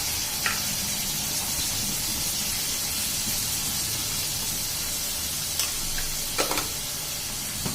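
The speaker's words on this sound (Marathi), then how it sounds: "छान परतून घ्यायची आपल्याला भाजी" Vegetables sauté in a hot pan with turmeric, asafoetida, garam masala and salt for a no-onion, no-garlic Konkani festival dish, giving a steady close sizzle with a few sharp spatula scrapes and clinks near the end.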